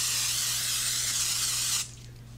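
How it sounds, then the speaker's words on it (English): A steady nonstick cooking spray hisses loudly and continuously for close to two seconds over a baking dish, then cuts off abruptly, leaving a quiet room tone. "We're gonna lightly grease with a nonstick cooking spray."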